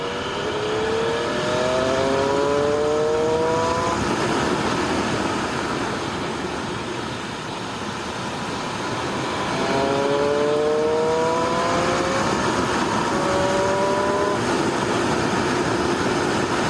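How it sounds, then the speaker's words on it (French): A 2017 Triumph Street Triple RS 765 motorcycle accelerates hard, its engine note climbing steadily through the gears, easing briefly, then surging again, loud and close with no talking. "Bon, allez, petite accélération."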